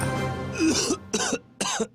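Three harsh coughs in quick succession, close and fairly loud, the first one drawn out with a throaty rasp.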